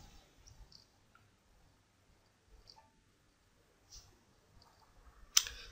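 A computer mouse gives one sharp, close click near the end, after a few faint ticks in an otherwise quiet room.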